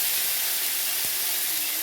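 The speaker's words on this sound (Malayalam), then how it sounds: "അപ്പോൾ നമ്മുടെ കടുകെല്ലാം പൊട്ടി തുടങ്ങിയിട്ടുണ്ട്" Mustard seeds crackle in hot oil while being tempered for a stir-fry of pumpkin leaves and cowpea leaves, a steady close sizzling hiss with one soft pop and no voices.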